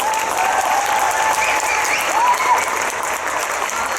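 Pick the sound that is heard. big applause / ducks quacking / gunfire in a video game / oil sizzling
big applause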